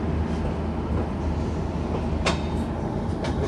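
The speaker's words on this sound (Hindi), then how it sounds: "और ये है जनसाधारण एक्सप्रेस जो हमसे पहले आई है, बहुत पहले।" A Jansadharan Express train at an Indian railway station gives a steady, loud rumble throughout, with a couple of brief hissing bursts near the end and no talking.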